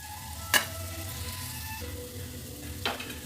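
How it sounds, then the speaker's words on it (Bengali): Matar paneer masala being stirred after water is added, a quiet simmering bubble with two brief utensil clinks against the pot, no talking. "মশলাটা আমার কষানো হয়ে গেছে এবার আমি জল দিয়ে দিচ্ছি জল দিয়ে নাড়িয়ে একটু ঢাকা দিয়ে দেবো"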